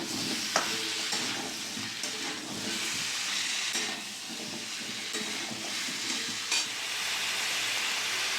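Chicken, potato and carrot stirred in a pan with mustard oil, a steady sizzling hiss with occasional scrapes of the spoon, continuous and close, no talking.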